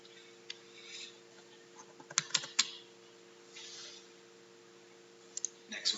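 Clicks on a computer while selecting lines in CAD software: a few sharp taps in a cluster and a couple more later, quiet and close over a faint steady hum.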